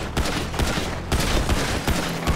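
Gunfire in the video game GTA during a roleplay shootout, dense rapid bursts of shots crackling continuously, loud and close, with a brief gap midway.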